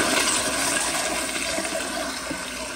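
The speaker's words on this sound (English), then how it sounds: "but here is another flush" A 2009 Proflo Gilpin elongated pressure-assist toilet flushes with a loud, steady rushing whoosh of water that stays forceful and close throughout, with no talking.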